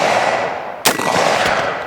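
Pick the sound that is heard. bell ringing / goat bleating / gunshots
gunshots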